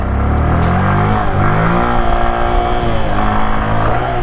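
A motorcycle engine idles and putters at low revs during slow stunt-riding practice, a close, steady rumble whose pitch rises and falls slightly with small throttle changes, with no one talking.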